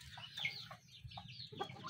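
A gamefowl broodcock clucks in short, quick calls close by, soft overall with a low background hum beneath them.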